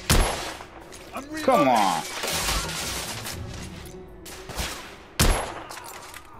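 Gunshots in The Order: 1886, sharp loud reports fired in short clusters, a burst near the start and another sharp volley near the end, with a brief spoken exclamation between shots.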